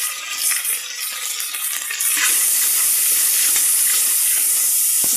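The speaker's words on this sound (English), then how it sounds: "Now while the onions are getting sauteed" Steady loud sizzling and hissing of chopped red onions sauteing in a hot pan, growing more intense partway through, with no voices.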